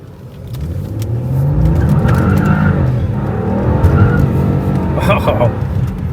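Tuned 2017 Lincoln MKZ on E30 fuel accelerating hard, a loud rising engine roar with a brief tire-squeal chirp, heard from inside the car while people talk over it.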